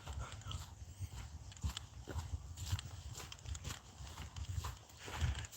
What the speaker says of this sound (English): Lots of ponies and cows.